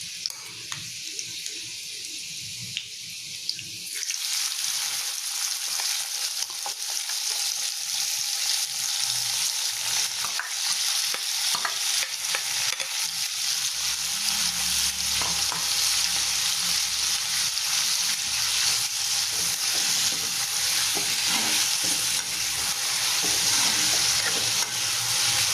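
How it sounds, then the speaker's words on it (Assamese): Garlic and spice mixture frying in a pan over a high gas flame, a steady loud sizzle with stirring scrapes that starts after a quiet opening and continues throughout. "এইখিনি ভাজোঁতে আপোনালোকে গেছৰ ফ্লেমটো হাই কৰিয়ে ৰাখিব, বেছি ভাজিব নালাগে"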